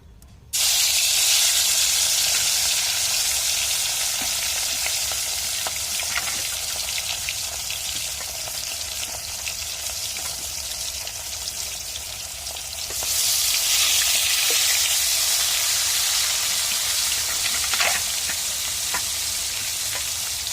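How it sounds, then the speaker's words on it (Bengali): Turmeric- and salt-coated rohu fish pieces fry in hot oil in a wok, giving a loud, continuous crackling sizzle that swells after a pause as more pieces go in, with faint spatter pops and no talking. "তেলটা ভালো গরম হয়ে গিয়েছে। এবার আমি দিয়ে দেবো একে একে মাছগুলো।"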